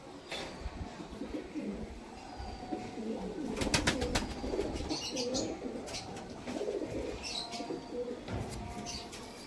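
Low rolling coos from Kamagar pigeons, a Pakistani high-flying breed, repeat close by through a steady noisy background, joined by a short burst of sharp clicks and a few thin chirps.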